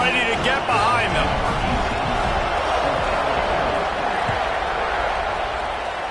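Big football stadium crowd roaring and cheering after an Arkansas touchdown, a dense sustained wall of noise close around the listener with a commentator talking over it.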